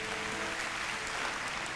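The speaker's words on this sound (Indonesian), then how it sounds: "Kasih tepuk tangan untuk Tuhan Yesus yang percaya." A church congregation claps steadily together during a sermon, a dense, even wash of applause from many hands that holds throughout.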